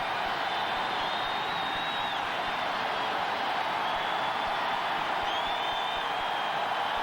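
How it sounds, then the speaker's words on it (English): Roaring crowd noise fills an NFL football stadium during a 1992 Cincinnati Bengals versus Houston game, a steady, dense wash of cheering that stays loud throughout with faint whistle-like tones rising above it. "Crowd noise making it tough for Esiason."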